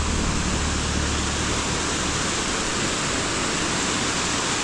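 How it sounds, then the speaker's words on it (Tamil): Water rushing beneath an old bridge from an opened dam, a loud, steady broadband roar that holds constant throughout with no pauses. "இதில் பார்த்திங்கன்னா இங்கே தண்ணி ஓடுது"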